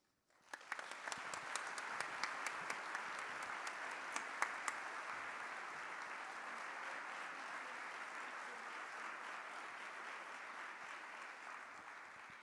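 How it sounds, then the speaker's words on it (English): A conference audience at an investment conference bursts into sustained applause, a steady wash of many hands clapping that starts abruptly and holds for over ten seconds with no talking over it. "Can we have just another round of applause?"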